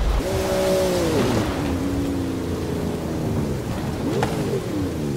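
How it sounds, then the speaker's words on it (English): Thunderstorm ambience with steady rain from Forza Horizon 5, a continuous loud wash of rainfall under a low droning rumble, with a brief sharp crack near the end. "The storms can be bad, but the ancient peoples of this region knew the value of the rain."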